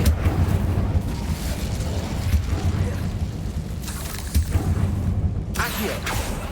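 A fire spell, Incendio, is cast in Hogwarts Legacy inside a tomb, giving a rumbling, booming burst of flame over a low continuous roar, fairly loud and sustained throughout.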